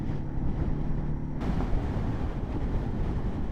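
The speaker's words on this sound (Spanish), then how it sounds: "Ahora es el viento." Steady, loud wind roaring into the microphone of a rider on a motorcycle crossing back into Mexico at the US border, a dense continuous rush with a shift in tone partway through and no voices.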